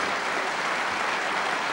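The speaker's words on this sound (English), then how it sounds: "And a tremendous round of applause" A snooker crowd at the 1982 World Championship bursts into sustained, dense applause after a superb shot, a steady wash of many hands clapping with no voices on top.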